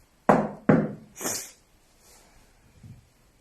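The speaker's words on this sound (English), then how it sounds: "You can make a banging sound like this." Two sharp, loud bangs in quick succession, then a softer thud, like knocking hard on a hollow object nearby.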